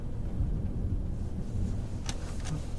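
Thunder from a passing storm near Amarillo rumbles low and steadily, with heavy rain-like background noise and a couple of faint sharper cracks late in the clip, no talk.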